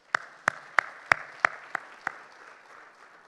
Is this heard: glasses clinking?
no